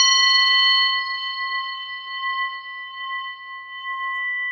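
A bell is struck once, giving a clear ringing tone with several steady pure partials that sustain and slowly fade over more than four seconds, heard close and alone.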